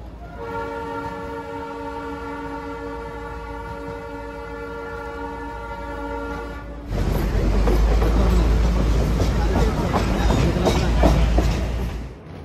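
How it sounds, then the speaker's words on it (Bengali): The Darjeeling toy train's long, steady horn sounds for several seconds near Siliguri, then gives way to the loud, continuous rumble of the train rolling along the tracks. "না, ট্রেনের শিলিগুড়ি টাউনে দাঁড়ানোর কোনো মুডই নেই, তাই জন্য না থেমে এগিয়ে চলল"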